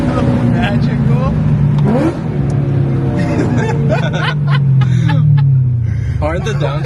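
A BMW M4 or M3 engine revs and drops through several downshifts, pitch sweeping up and down, loud and close, with people talking over it.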